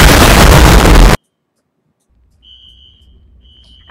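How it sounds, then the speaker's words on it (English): A sudden explosion in a doctor's lab in a video game bursts in loud and broadband, cuts off abruptly after about a second, and gives way to near silence and then a thin high alarm tone that beeps twice. "There's an explosion in Dr. Smile's lab."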